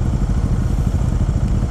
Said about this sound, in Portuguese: Olha a moto passando ali,